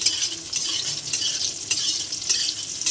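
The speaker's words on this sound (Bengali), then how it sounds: "সয়াবিনটা ভেজে নেব।" Soaked soybean chunks fry in hot oil in a pan, a steady bright sizzle with occasional soft stirring scrapes, close and continuous without any talk.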